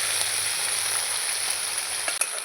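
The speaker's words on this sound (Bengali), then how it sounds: "ঝিঙের ছোকলাটা আমি ভাজবো তেলের মধ্যে পেঁয়াজ দিয়ে দিয়েছি" Ground ridge gourd peel frying with onion in hot oil: a loud, even sizzle that carries on without a break close by, with one brief knock near the end and no talking.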